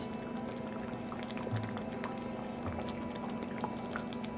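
A cornstarch-and-water slurry is poured into a simmering pot of sauce, giving a soft, faint bubbling and trickling of liquid with scattered small pops and no talking.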